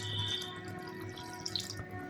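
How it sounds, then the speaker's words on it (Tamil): Water poured from a tumbler into a pot of sautéed biryani masala while cooking chicken biryani; a steady, moderately quiet pour runs throughout with no talking. "நல்லா வதங்கிடுச்சு இதுக்கு தண்ணி ஊற்றிக்கலாம்"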